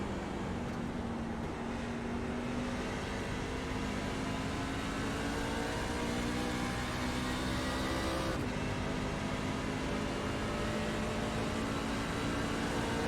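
A race truck engine in a racing video game roars steadily from an in-cab view, its pitch climbing, then dropping sharply once as a gear changes through a turn, then climbing again.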